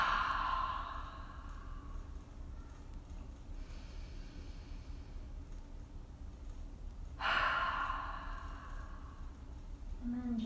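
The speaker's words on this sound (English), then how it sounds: "taking one nice big inhalation, and then exhaling through the mouth" A long, audible breath out through the mouth during a gentle yoga session, heard at the start and again a few seconds later, with quiet room tone between the soft exhalations.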